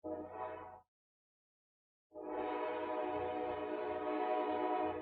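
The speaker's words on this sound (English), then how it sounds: "I'm just gonna wait for the train and cut this out, I guess." Passing train with a steady, loud rumbling roar that cuts off briefly into silence, then returns and sustains without any talking over it.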